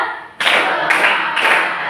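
Rhythmic classroom clapping as standing pupils clap in time on a teacher's counted call, three loud sharp bursts of claps, close and alone without talk.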